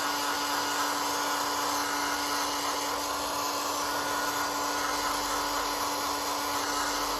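Steady, loud whir of a hair dryer blowing on paper junk journal fillers, a continuous airflow hum running unchanged throughout with no pauses or talk.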